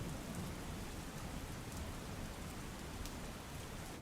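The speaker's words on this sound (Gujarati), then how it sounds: "વહેલી સવારથી જ દાહોદમાં વરસાદ વરસી રહ્યો છે" Steady rain pours down in Dahod, a dense, even hiss of drops hitting surfaces, with no voices.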